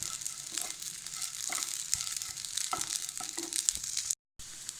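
Rice roasting in a pan for caramel kheer gives a steady, close sizzle with scattered crackles and stirring scrapes, cutting out briefly near the end, with no speech.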